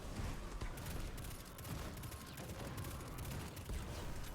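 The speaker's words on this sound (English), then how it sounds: "We're going to put a rocket into the barrier." A rocket fired into a champion's barrier during Destiny 2's Heist Battleground: Europa, played by a Prismatic Warlock. Muffled booms and crackling fire blur together in a continuous low-level wash of combat noise.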